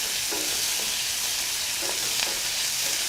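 Onions for egg curry fry in a pan with a loud, even, continuous sizzle and a few soft stirring scrapes underneath.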